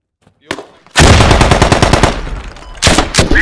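Automatic rifle fire in the Squad military video game, a loud, rapid burst of close shots lasting well over a second, then a brief pause and another heavy burst.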